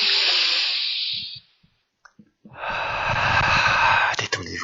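Slow, deep breathing during a guided heart meditation, a long airy inhale fading out, a pause with faint small sounds, then a broad, steady breath filling the rest.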